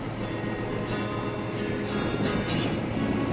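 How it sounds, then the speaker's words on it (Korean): A fishing boat at sea turns around to head back to port with its catch, its engine giving a steady, continuous rumble mixed with wash and water noise, with no talk over it. "부지런히 배를 돌립니다."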